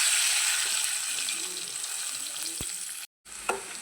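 Cumin and fenugreek seeds crackle and sizzle in hot oil in a pan while curry leaf pickle is being made, a close, continuous spitting hiss with a brief break near the end.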